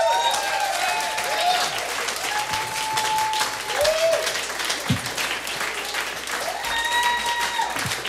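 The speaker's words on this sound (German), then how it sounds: "Riesenapplaus" Audience applause at a live concert, sustained dense clapping from a large crowd with whistles on top and a voice speaking over it.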